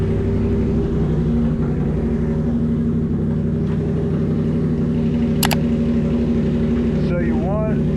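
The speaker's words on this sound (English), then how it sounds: "So you want to run the bike for about 5 minutes, 2 to 5 minutes." A Yamaha R7 motorcycle engine idles steadily in neutral at close range, a continuous loud rumble with stable harmonic drone throughout, a brief click midway and a short whistle-like tone near the end.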